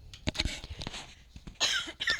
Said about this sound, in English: So the reason I'm coughing